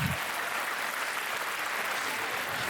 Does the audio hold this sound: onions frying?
no